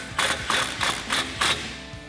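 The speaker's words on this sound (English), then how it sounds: "take an 18mm socket and tighten that down." Ratchet wrench with an 18mm socket tightening a bolt on a Jeep Wrangler JK RedRock HD tire carrier, five crisp, close clicking ratchet bursts in an even rhythm.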